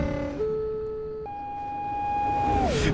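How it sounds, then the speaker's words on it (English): Train horn in Train Simulator 2017, a wavering two-tone wail like a broken police siren that steps up in pitch midway, then drops near the end, sustained and loud for about three seconds. "Sounds like a broken police siren out of GTA."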